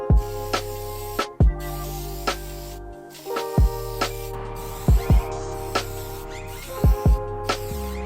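Bumper primer is sprayed onto a campervan front bumper in short, repeated hissing bursts, each followed by a pause, under a steady musical background.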